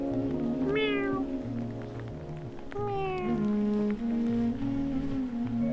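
A cat meows twice indoors during stormy weather beside Lake Brienz, the two rising-and-falling calls clear and fairly close over a steady background hum.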